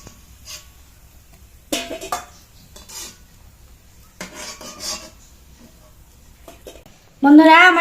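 Fried corn fritters being lifted into a clean bowl, with intermittent metallic scrapes and clinks of a utensil against the pan and bowl, near and fairly quiet, ending in a brief louder sound.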